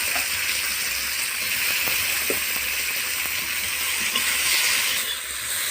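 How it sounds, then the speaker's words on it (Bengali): Chopped tomatoes frying in oil in a kadai give off a continuous, even sizzling hiss, close and fairly loud, with no voices over it. "টমেটোটা হালকা ভেজে নিয়েছি,"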